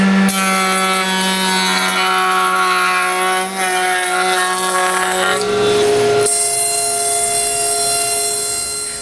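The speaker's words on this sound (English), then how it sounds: "route a groove inside the frame just like I did for the exterior frames" A woodworking router cuts a groove inside a wooden nightstand frame, a loud steady high-pitched whine that shifts pitch as the bit moves through the wood, running continuously.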